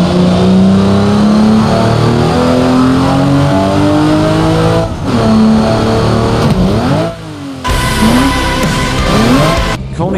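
Toyota Supra in the BeamNG.drive video game revving hard and accelerating through rising and falling engine pitch changes, loud and close, with a short gap midway before it roars again.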